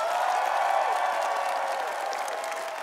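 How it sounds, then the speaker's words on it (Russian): A studio audience at a television comedy show claps steadily, a bright, even patter of many hands that holds for a few seconds and fades slightly toward the end. "Итак, аплодисменты."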